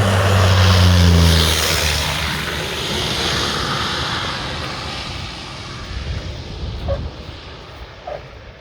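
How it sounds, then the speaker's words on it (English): An Air Tractor airplane coming in to land drones loud and close with a low engine note at first, then fades into a broad steady roar as it moves away. "there's a cool air tractor coming into land"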